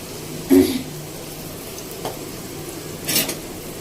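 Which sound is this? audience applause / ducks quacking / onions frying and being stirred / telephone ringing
onions frying and being stirred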